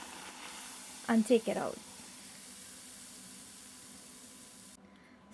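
Trinidad and Tobago doubles dough frying in hot oil gives a steady, soft sizzle that runs the whole time, with a brief stretch of speech over it early on.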